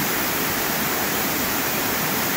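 Clark Falls in Bellthorpe roars in a constant, dense rush of falling water, steady and close with no other sounds.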